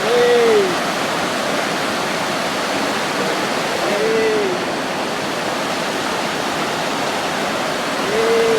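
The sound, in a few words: water flowing in rice paddy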